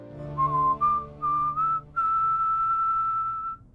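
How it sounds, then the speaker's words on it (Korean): Someone whistles a short tune nearby in a film's prison scene: a few clear brief notes rising in pitch, then one long sustained high note held to the end. "방에서의 휘파람이 온 교도소에 울려 퍼지다니"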